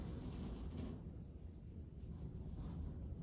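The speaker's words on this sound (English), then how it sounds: "it is raining and storming at my house right now" Steady broadband rush of heavy rain with low rumbling underneath, continuous and fairly loud throughout, with no voices.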